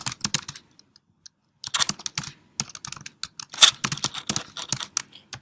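Fast, irregular clatter of keys on a computer keyboard, close and fairly quiet, coming in bursts of typing with short pauses between them, with no voices.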